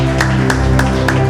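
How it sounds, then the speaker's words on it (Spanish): A church congregation claps in a steady rhythm, four evenly spaced beats cutting through sustained organ-like music at a loud, close level. "Le damos un fuerte aplauso al Señor."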